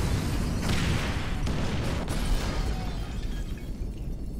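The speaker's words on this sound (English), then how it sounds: "Use the phone to detonate C4." C4 charges set off by phone in Grand Theft Auto V, a dense, sustained roar of blast noise with a sharp crack near the middle, loud and close throughout.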